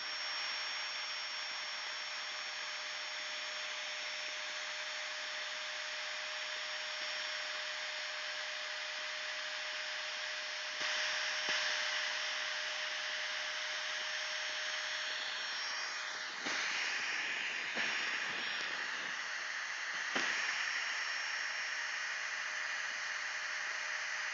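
Electric pump inflating a Sea to Summit Etherlight XT sleeping mat, a continuous whining drone held at a steady tone that shifts slightly partway through, close and loud with no talk.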